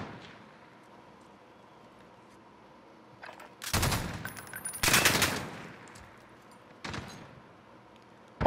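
Automatic weapon fire in a video game rattles out in three bursts: two long, loud volleys close together, then a shorter one, set against a low, quiet background.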